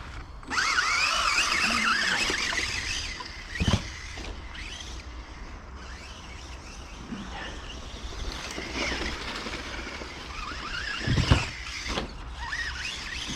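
A Kyosho Rampage Pro RC car with a 3660 2750kv motor and 2s 5000mah pack driving on a dirt track, a high whining motor that rises and falls with throttle, some distant and faint, with occasional thumps.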